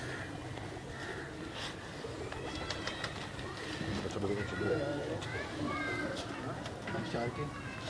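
Tiger pigeons cooing faintly in a loft setting, low calls heard beneath someone talking throughout.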